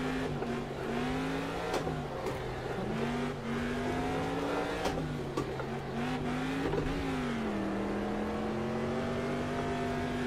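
A racing truck's engine revs hard on a lift-a-wheel run around the Targa course, the pitch rising and falling through gear changes, loud and close throughout with no talk.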